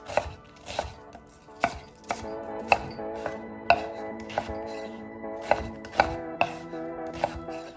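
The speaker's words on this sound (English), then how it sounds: "We'll peel the onions. We'll cut them in dices." A knife dicing red onions on a cutting board, sharp evenly spaced chops landing about once every half second, close and clear with no voices.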